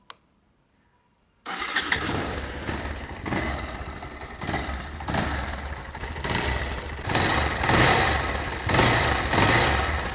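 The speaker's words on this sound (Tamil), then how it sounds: "2016 பல்சர் 220யோட ஸ்டாக் எக்ஸாஸ்ட் நோட்" A stock-exhaust 2016 Bajaj Pulsar 220F carburettor motorcycle is started after a short silence, then idles with a steady mid-pitched thrum and is revved in several swelling bursts, close and loud throughout.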